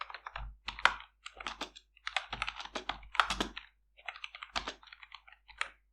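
Rapid bursts of computer keyboard typing while entering Python code for a Jarvis-style personal assistant script, with irregular clusters of close, crisp key clicks and short pauses between words.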